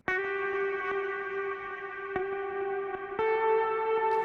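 A homemade electric guitar with dual humbuckers and a coil tap rings out in sustained, effects-laden chords, a few distinct strums each left to ring with echo and reverb, alone and up close.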